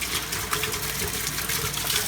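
Water rushes steadily through a pipe test rig fitted with a ball valve and a 90-degree elbow, a constant loud broadband hiss with no breaks and no voices.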